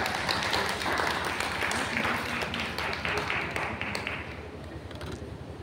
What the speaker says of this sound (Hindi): इस बात पर जोरदार ताली हो जाए।